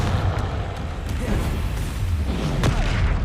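A Confringo fire spell from Hogwarts Legacy bursts as a deep, rumbling boom with dense low-end crackle, sustained and loud through the whole moment.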